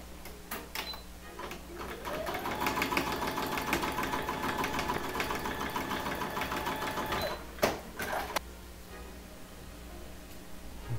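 A sewing machine runs steadily for several seconds while piecing two halves of a pinwheel quilt table runner, a close mechanical whir that stops with a few clicks, then a fainter hum.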